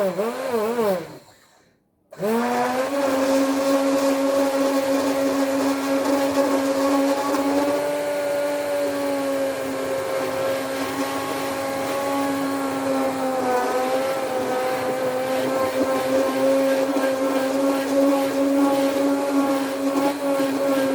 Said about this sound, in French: Ça, c'est les mixeurs.